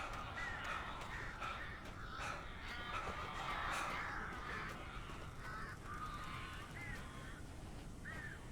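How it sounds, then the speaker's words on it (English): Crows caw repeatedly in the Alan Wake video game, harsh calls recurring in an irregular rhythm over a steady noisy ambient background, with no talk over them. "These birds are weird."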